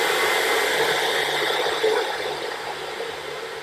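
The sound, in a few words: hair dryer with diffuser drying hair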